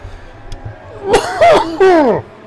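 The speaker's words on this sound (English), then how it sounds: "Apologies, ladies and gentlemen, for my coughing." A person coughs a few times in quick succession, loud and close, with a rough throaty edge.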